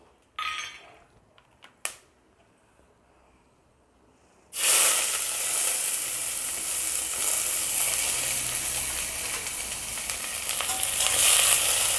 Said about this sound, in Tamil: நெய் ஆட் பண்ணிவிட்டு நம்ம தாளிக்க வச்சுருக்க ஹோல் கரம் மசாலாவை